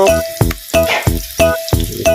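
Garlic and onion sauté in a pan with a bright, close sizzle, while strong rhythmic tonal pulses, like music, repeat about every 0.7 seconds over it.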